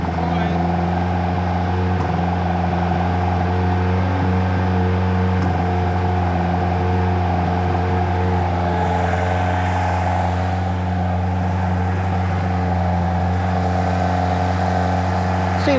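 A Mazda MX5 engine, fitted in an RX-5 kit car, held steady at 2800 RPM, giving a loud, constant droning hum with a stable pitch that runs unbroken from start to finish.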